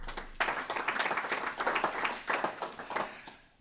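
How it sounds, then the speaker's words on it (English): A seminar audience applauds the speakers, steady clapping from many hands that swells quickly, holds briefly, then tapers off near the end. "So the second applause goes to the speakers and the content"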